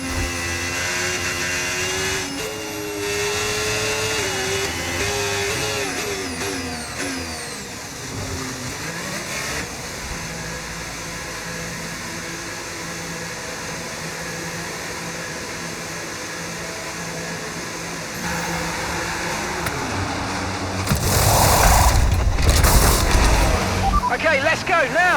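F1 25 racing game car at Austria, Hulkenberg's car, revving through a pit stop then accelerating out of the pit lane, steady engine drone with shifting pitch, louder surge near the end, with radio talk over it.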